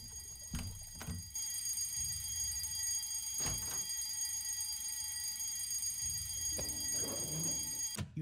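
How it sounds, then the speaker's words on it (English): Fire alarm ringing in a school in a video game, a loud continuous electronic tone with steady high harmonics lasting the whole stretch, broken by a few thumps and clatters underneath. "You turn the fire alarm off."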